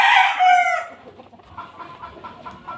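A Sweater Tornado gamefowl rooster lets out one loud, close crow, followed by softer clucking and faint bird sounds.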